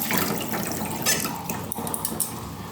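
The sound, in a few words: water from tap washing a cabbage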